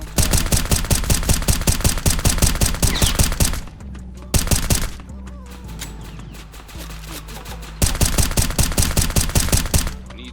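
Rapid automatic gunfire from a Glock with a drum magazine in an online shooter game, loud and close, in long continuous bursts separated by a brief pause and a quieter stretch.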